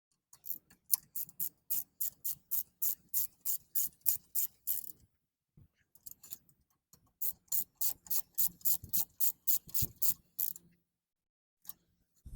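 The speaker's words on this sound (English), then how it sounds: "we tighten them with that 7mm Allen wrench" A ratchet turns a 7mm Allen socket to tighten brake caliper bolts on a Mazda 3, making quick, evenly spaced metallic clicks in two long runs with a pause between, close and clear, with no talk.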